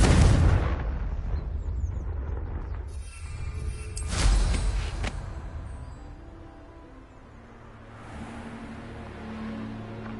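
A Confringo fire spell blasts rocks in the video game Hogwarts Legacy, a loud booming explosion with a broad crackling burst around the middle that rumbles and fades before a low ambient hum returns.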